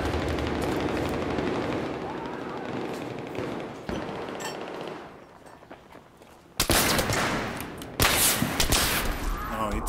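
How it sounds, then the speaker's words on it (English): Gunfire in Battlefield 3: Aftermath team deathmatch on Azadi Palace, bursts of rapid shots and sharp cracks, a quieter lull midway, then loud close bursts toward the end. "Oh, I'm already getting shot at."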